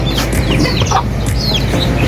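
A brooding hen in Karachi clucks in short, scattered calls over a steady low background hum, with faint chirps mixed in.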